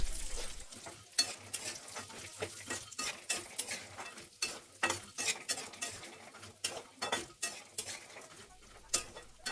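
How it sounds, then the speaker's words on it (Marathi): Urad dal is roasted and stirred in a pan, with a continuous dry rattle and scrape of the spoon against the metal in quick irregular strokes, close by. "सुद्धा चांगली परतून घ्यायची"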